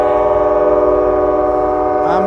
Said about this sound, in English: listen to that sound of that beautiful horn sound of the MPCU 9021A